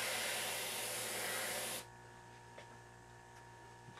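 A steady hiss of an airbrush spraying paint for about two seconds, then it cuts off, leaving a faint hum with a few soft clicks.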